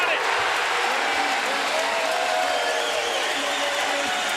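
A home crowd at a college basketball game in the Patriot League final, Boston University against Lehigh, cheers and applauds in a loud, steady wash of clapping and shouting that fills the arena.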